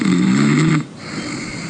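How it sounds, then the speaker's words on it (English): One loud, close, rumbling snore from a sleeping person lasts under a second, then drops away into quiet room tone. "I didn't think I snored like that"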